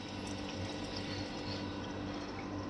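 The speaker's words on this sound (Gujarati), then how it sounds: "આપણે પાણી ભરી લઈ ફૂલ ઠંડુ પાણી છે" Cold water is filled into a container beside a parked truck in a village area, a steady, continuous gushing pour heard close and unbroken throughout.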